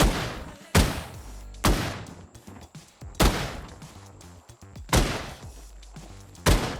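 Sharp video-game gunshots from the game Rust ring out one at a time, about five evenly spaced blasts, each with a short decaying tail, with no talking.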